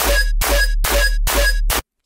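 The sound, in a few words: bass sound with soft clip saturator and OTT compression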